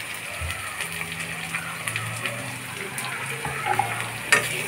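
Bitter gourd pieces fry in oil for a Telugu-style curry, a soft steady sizzle with occasional scrapes and clinks of stirring, close and moderately quiet with no talking.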